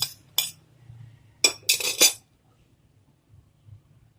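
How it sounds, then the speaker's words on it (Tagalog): A spoon clinks and scrapes against a large bowl while shredded cabbage and onion are mixed: a few sharp separate clatters, then a quick cluster of clinks, and a quiet, faint rustle afterward. "In a large bowl, mix cabbage, onion,"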